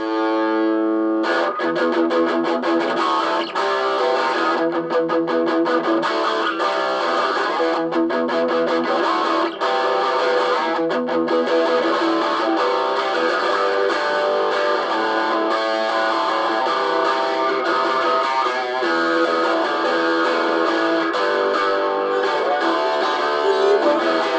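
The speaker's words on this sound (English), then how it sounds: "I'll have a go at pressing the distortion button." A heavily distorted electric guitar plays continuously and loudly, strumming chords in a steady rhythmic pattern with no voices.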